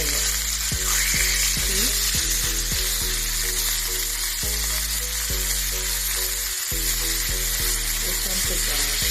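Chicken frying in a pan for garlic chicken makes a loud, constant sizzle, with rhythmic clicks and pulses from stirring or shifting the pieces, and a brief spoken word near the middle.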